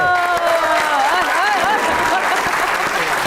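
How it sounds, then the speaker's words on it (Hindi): Studio audience applause on a Pakistani comedy talk show set, a dense steady wash of clapping with a voice talking and exclaiming over it throughout. "ताबिश के लिए तालियां बजाएं"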